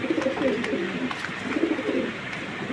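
Large Netherlands pigeons coo in low, soft rolling bursts that repeat over a steady background hum, with a faint bird call above.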